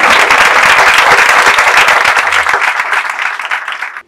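Dense applause from a church congregation, loud and steady for about four seconds before thinning out toward the end, with no talking over it.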